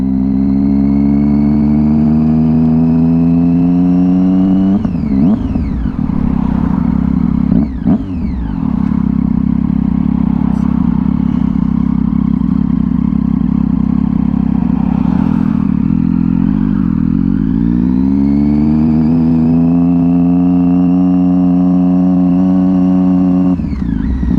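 A 2011 Triumph Street Triple 675R being ridden, its engine droning loudly and steadily throughout, rising and falling in pitch as it revs through gear changes and accelerates, with no voices over it.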